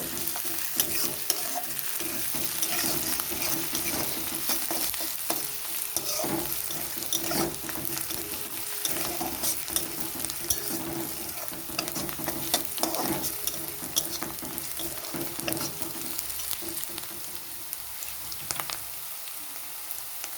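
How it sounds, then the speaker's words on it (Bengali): Ginger and green chillies fry lightly in a pan for homemade vegetable pasta, a dense continuous sizzle with frequent stirring scrapes, close up and with no talking. "এরপর আদাটা দিয়ে দিলাম, কাঁচা লঙ্কা হালকা ভেজে নেব"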